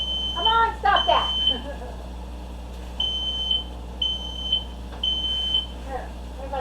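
A smoke alarm goes off in a kitchen while tomatillos roast in the oven, sounding a repeated series of shrill, evenly spaced beeps. A person talks over the first beeps.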